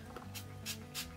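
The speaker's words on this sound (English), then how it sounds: "I'm just going to spray this along the lines" A spray bottle of leave-in conditioner is spritzed along the parting lines of 4C hair in a protective style, giving three quick, close, hissing bursts spaced evenly apart.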